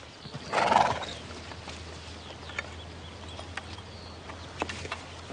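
A lame horse gives a short, fairly close neigh, then its hooves clip-clop in sparse, uneven steps against a quiet outdoor background, with no voices.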